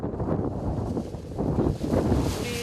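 Wind blows outdoors around a food truck cooking for a film crew, a steady rough gusting rush buffeting the microphone across the whole stretch, with no talk.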